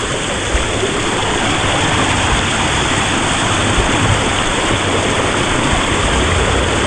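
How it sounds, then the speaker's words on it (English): Continuous loud rushing water, a dense steady splash and roar with no pauses, while riding down a water slide at the Disney's Coronado Springs Resort pool. "here I go for the second time down the water slide"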